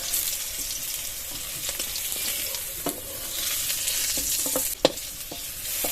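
Pointed gourd (potol) fries in oil, a steady close sizzle broken by scattered scrapes and clacks of a spatula stirring the pan, with one sharper knock near the end.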